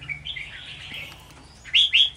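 A caged songbird, a large-bodied young wild-caught bird about five months old, gives two loud, bright rising chirps near the end after softer, continuous warbling and twittering at close range.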